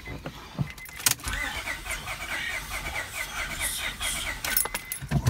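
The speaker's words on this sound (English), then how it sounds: "Now we're gonna crank the car 6 times" An Acura/Honda car engine cranks over in a steady rhythmic whir without catching during a compression check, with a click and faint jingling of keys at the start.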